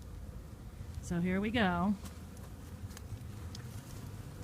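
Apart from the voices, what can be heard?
honey bee swarm buzzing in a backyard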